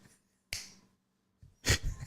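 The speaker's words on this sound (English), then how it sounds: "if I snap my fingers" Two sharp, isolated snaps ring out about a second apart, close and crisp against near silence, the second followed by a brief rustle.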